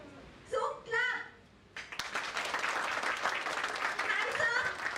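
A group of participants claps together during a guided activity at an office event, a brief voice first, then dense, steady clapping that swells and holds loud for several seconds.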